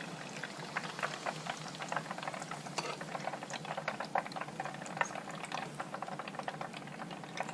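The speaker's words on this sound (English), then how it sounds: "There we have deep fried coconut shrimp made in Cuisinart's deep fryer." Coconut shrimp sizzle in hot oil in a Cuisinart home deep fryer, a dense, steady crackle and bubbling heard up close for several seconds with no voices.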